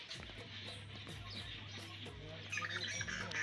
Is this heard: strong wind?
no